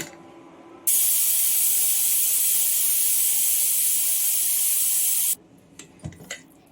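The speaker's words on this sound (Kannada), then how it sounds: "ಈ ಕುಕ್ಕರ್ ಕ್ಲೋಸ್ ಮಾಡಿ 4 ವಿಸಿಲ್ ಬಿಡೋಣ." A pressure cooker cooking chicken saru abruptly releases a loud, sharp jet of hissing steam that holds steady for about four and a half seconds and then cuts off, followed by a few faint clinks.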